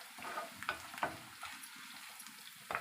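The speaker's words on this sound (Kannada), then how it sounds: "ಈಗ ಸ್ವಲ್ಪ ಚೆನ್ನಾಗಿ ನಮಗೆ ಕಲರ್ ಬರೋವರೆಗೂ ಸ್ವಲ್ಪ ಫ್ರೈ ಮಾಡ್ಕೊಳ್ಳೋಣ." Curry leaves and spices frying in a pan for a drumstick-leaf chutney powder, giving a soft steady sizzle with a few sharper crackles and stirring clinks, close and fairly quiet, with no talking.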